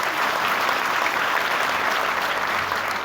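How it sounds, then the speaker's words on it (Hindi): Dense, steady applause from a corporate event audience in India, many hands clapping together for the whole stretch with no voices rising above it. "एक बार जोरदार तालियां होनी चाहिए।"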